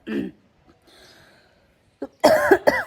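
A cough from someone with a cold, heard as a short burst near the start, then quiet murmuring, and louder talking and laughter at the end.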